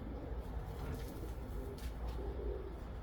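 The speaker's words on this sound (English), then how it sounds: "He's a beautiful long distance pigeon." A long distance racing pigeon coos softly, its low murmuring calls faint and close against a steady background hum, with no talk over it.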